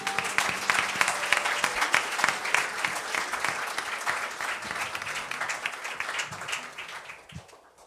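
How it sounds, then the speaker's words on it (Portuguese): A church congregation breaks into lively applause during worship, many hands clapping in a dense, slightly pulsing wash with a few low thumps underneath, gradually thinning and fading out near the end. "Aplauda, Senhor, pois Ele é digno."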